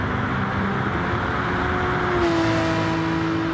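GT3 race cars on the main straight at Fuji Speedway in a racing video game, engines droning loud and constant with a rising tone as one car closes in, heard without speech.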